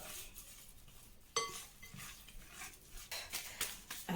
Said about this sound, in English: I will then mix everything together.